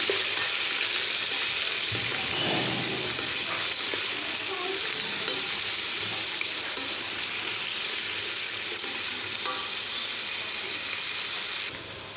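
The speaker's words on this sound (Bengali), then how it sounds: "পেঁয়াজগুলোকে একটু নেড়ে ছেড়ে দেবো" Onions fry and get stirred in a pan for the base of a beef curry, a dense continuous sizzle running steadily throughout with occasional soft scrapes of the spoon.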